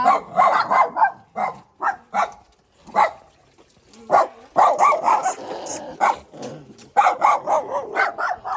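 Dogs bark loudly and repeatedly nearby in irregular bursts, with short pauses between volleys.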